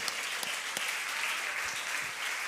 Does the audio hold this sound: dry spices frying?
no